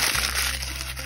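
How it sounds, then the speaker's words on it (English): A bag crumpled into a ball by hand for a craft project, a dense crinkling burst close up that continues steadily without a break. "And then what I'm gonna do is I'm gonna crumple it out."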